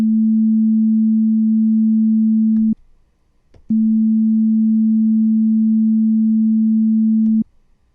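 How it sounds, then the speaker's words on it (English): A pure, sine-like fundamental tone of a clarinet with its overtones removed by EQ, held steady for nearly three seconds, then a short silence, then a second identical sustained tone, clean and alone. "when we only listen to the fundamental, all we hear is one fundamental frequency"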